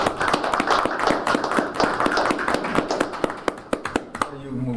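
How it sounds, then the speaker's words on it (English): A village board meeting room fills with applause, many hands clapping in a sharp, fairly close patter that thins into a few scattered claps as a voice begins speaking at the end. "they need a round of applause for all the work and all the volunteers for what they did"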